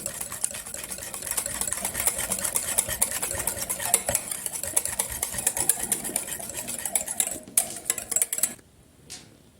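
Batter for a quick breakfast dish, seasoned with black pepper, is stirred briskly in a bowl, giving a dense run of rapid clinking, scraping strokes up close that stop abruptly near the end.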